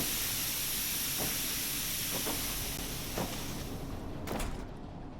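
Steam hisses from a steam system in the Metro VR video game, a steady broadband hiss filling the whole stretch with a few soft knocks and clanks over it, no talking.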